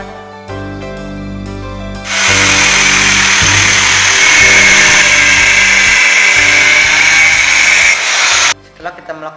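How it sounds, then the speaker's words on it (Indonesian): A power tool cutting metal whines loudly through a long cut, a harsh high-pitched grinding that starts abruptly and stops after several seconds, with ringing tones before and after. "Tahap pemotongan ini kita akan menggunakan alat seperti gerinda mesin, gergaji, api manual."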